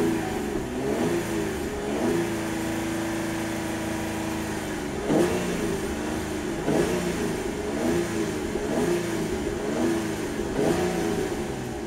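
A 2014 Cadillac CTS engine runs steadily at close range, with a few brief revs swelling over the idle.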